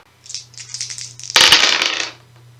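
Three dice for a Shadows of Brimstone board game rattle briefly in a hand, then clatter loudly onto the table in a short burst of tumbling clicks, close by.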